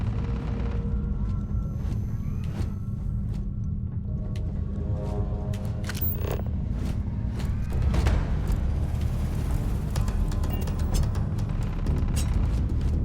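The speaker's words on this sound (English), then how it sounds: "I hear gunshots." Scattered gunshots and distant booms sound in Starfield, with sharp cracks repeating irregularly over a constant low rumble.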